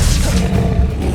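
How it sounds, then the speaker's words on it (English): A spell cast in Hogwarts Legacy bursts out as a loud, rushing roar with a deep, booming low end, sustained for about a second without a break. "Expelliarmus!"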